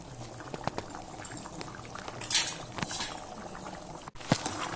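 Spicy Tamil dried anchovy (nethili karuvadu) fish curry simmering in a pot, giving a soft, steady bubbling and faint liquid patter at low level, with a couple of brief clinks and no talking.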